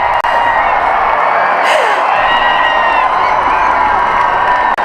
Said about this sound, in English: you can hear the roar of crowd as well as we start to get out of totality